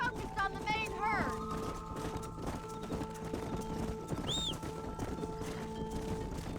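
Horses in the Red Dead Redemption video game clop along in a rapid, rhythmic hoofbeat while a couple of short neighs cut through, with talking voices running underneath.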